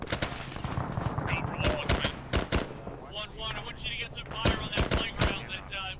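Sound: gunfire in video game ARMA

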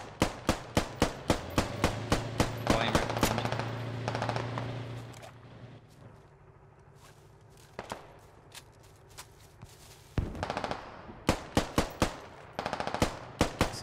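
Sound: machine gun fire with tracers in video game Squad

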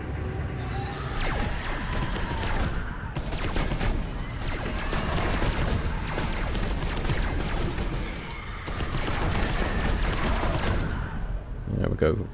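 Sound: gun firing in video game Space Hulk Deathwing

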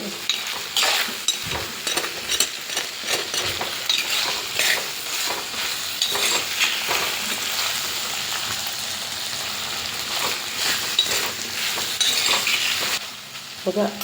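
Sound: raw plantain frying in oil being stirred

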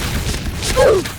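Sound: explosions in a video game

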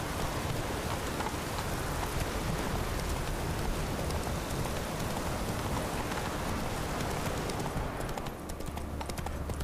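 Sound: rain in the video game The Witcher 3: Wild Hunt

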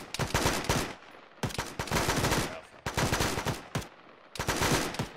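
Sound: gunfire from the base in a military video game

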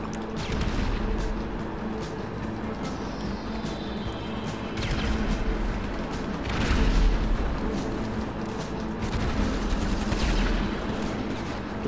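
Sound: sniper gunfire in GTA V Online video game

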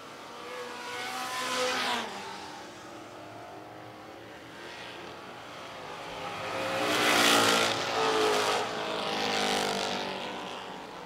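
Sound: vintage race cars racing on a speedway track

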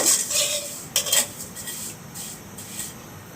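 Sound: dry-roasting vermicelli (semai) in a pan on the stove

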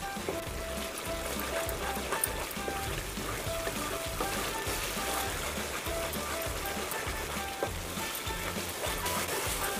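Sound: frying masala with ginger garlic paste in oil

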